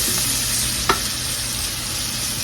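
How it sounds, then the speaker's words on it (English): Vegetables sautéing in a hot pan, a steady close sizzle with one sharp clink of a utensil partway through, no talking. "And I just want to saute these just a little bit, get them going, get them started"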